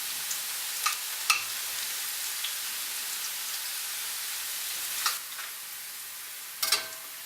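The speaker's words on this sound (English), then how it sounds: "I'll just throw those in the oil like that." Tortilla chips fry in hot oil with a soft, steady hiss and fizz, marked by a few brief louder crackles and pops at irregular moments; no one speaks.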